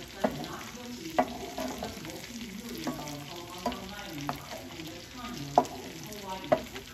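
Chicken curry gets stirred in a pan with a soft sizzle underneath. Irregular utensil clicks and scrapes against the pan stand out, close and moderate in level, with a faint background tone.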